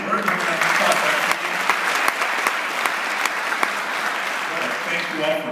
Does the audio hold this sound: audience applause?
yes